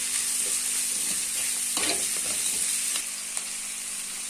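Lentils, chana dal and spices fry in hot oil in a pan for lemon rice, a steady close sizzle with occasional stirring scrapes and no talking.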